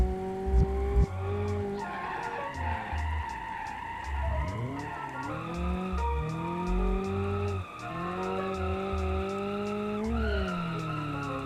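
A drift car in BeamNG racing game slides through corners with long, loud tire squeals over a revving engine, skids rising and falling continuously without pause and no voices.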